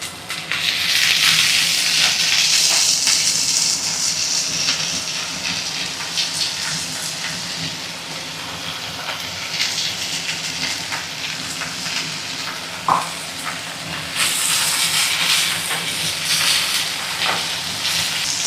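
Tender tamarind leaves dropped into a hot pan of partly cooked dal give a loud, steady sizzle and hiss that carries through to the end, with a brief clink near the middle and no talking.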